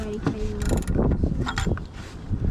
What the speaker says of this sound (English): we are gonna tighten it with the wrench, of course